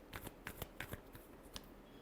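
Tarot cards being shuffled by hand, a quick series of soft, crisp riffling flicks and slaps, faint and close.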